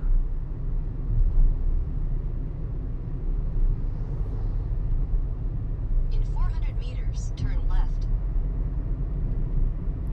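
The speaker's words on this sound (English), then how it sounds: "I think I'll drive I'll drive a little bit slower." A car drives along a road in Curacao, giving a steady low engine and road rumble from inside the cabin, with a brief spoken voice partway through.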